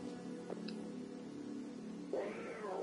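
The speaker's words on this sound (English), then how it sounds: "that's a three-headed cat" A cat meows in the Dracula X video game, a rising then falling cry near the end of the passage over a steady bed of game music, following a few brief effects earlier.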